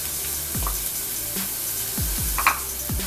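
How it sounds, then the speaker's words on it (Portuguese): Onion and bell pepper sautéing in a pan while being stirred, a steady soft sizzle with a few scraping stirs of a utensil, close by and without talk. "Vamos mexer bem o pimentão junto à cebola."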